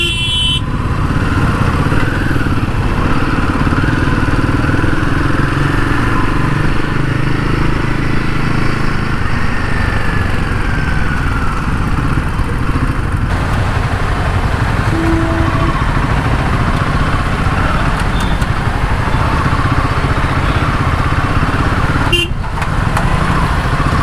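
A Royal Enfield Himalayan 450 motorcycle engine drones steadily while riding, a loud constant hum with wind and road noise and no let-up through the ride.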